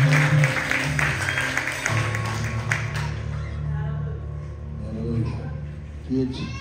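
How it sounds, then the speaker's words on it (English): A church congregation claps in praise during a Sunday morning service, a dense burst of applause mixed with music and voices for the first few seconds, then fading as a speaker talks over a soft sustained musical background. "Give the Lord a hand clap of praise."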